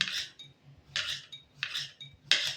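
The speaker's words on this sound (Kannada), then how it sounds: "ಈ ಕೊಬ್ಬರಿಗಳನ್ನ ರುಬ್ಕೊಳೋದಕ್ಕೋಸ್ಕರ ಸಣ್ಣ ಸಣ್ಣ ಚೂರಾಗಿ ಹೆಚ್ಕೊಳ್ತಾ ಇದ್ದೀನಿ" Dried coconut is chopped into small pieces with a knife on a board. Four crisp, close chopping strikes come at a steady rhythm, with quiet pauses between them.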